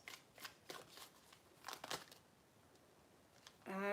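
Tarot deck shuffled by hand, a few close papery riffles in the first two seconds, then quiet, ending in a brief tonal sound.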